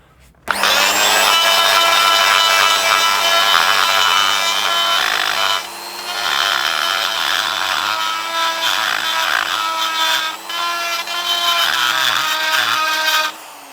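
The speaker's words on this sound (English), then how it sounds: "If you're using a die grinder like this, a little bit of candle wax stops the cutter from blocking up" A die grinder cutting into metal during a welding repair on a bike footpeg or tractor track rod, a loud continuous high-pitched whine and grinding rasp with slight variations in load.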